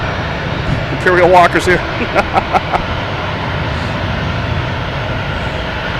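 Spirit Airlines airplane taking off at Boston Logan Airport, a steady roaring jet engine rumble heard from a distance, with someone talking over it partway through.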